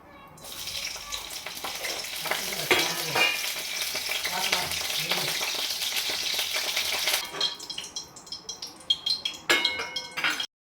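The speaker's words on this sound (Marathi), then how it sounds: "आता 2च मिरच्या मी तळणार आहे" Green chillies fry in hot oil with a loud, steady sizzle and crackle lasting several seconds, then give way to sharper clinks and scrapes of a utensil against the pan before stopping abruptly.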